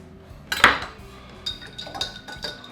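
Pineapple roasted with pepper and orange being mixed for a rum preparation: one loud clatter of utensil against a dish, followed by a few softer clinks and scrapes spaced out, close by, with no talking.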